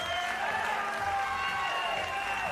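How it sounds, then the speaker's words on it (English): A home crowd at a para shooting sport final, the men's 50m rifle prone, keeps up a dense, steady wash of cheering and applause, loud and unbroken from start to finish. "With a crowd that loud behind you, you've almost got to shut it out when it comes to shooting"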